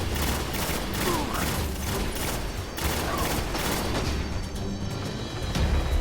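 Grenade explosions and gunfire from the Destiny video game, heavy blasts and booms running almost without a break and filling the whole stretch with loud, dense combat noise.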